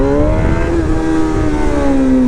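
A car pulls away hard in first gear, its engine note rising loud and close in a steady climb over about two seconds.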